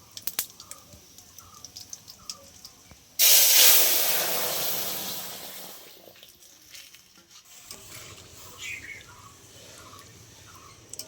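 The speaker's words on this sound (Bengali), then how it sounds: "এবারে আমি ডাল ঢেলে দেবো" Lentil dal with jackfruit seeds hits a pan of hot, reddened spice tempering in a sudden loud hiss. The sizzle bursts at once, then slowly fades into a softer bubbling crackle.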